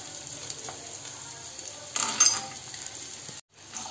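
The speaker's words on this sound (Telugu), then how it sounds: "ఇప్పుడు పచ్చిమిర్చి మనకు గోలినాయి కాబట్టి పల్లీలు కూడా వేస్తున్నాను." Peanuts and green chillies frying in hot oil give a steady, fairly faint sizzle, with a brief brighter crackle partway through and a sudden cut near the end.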